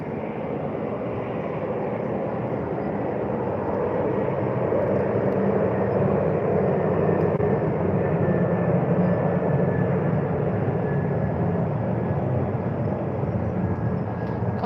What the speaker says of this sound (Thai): เมื่อกี้เสียงเครื่องบินจากเพื่อนน เสียงเครื่องบินมารับค่ะ